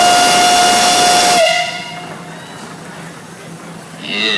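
A loud steam engine whistle at a parade blows one steady high tone for about a second and a half, then cuts off, leaving a soft hiss and background noise.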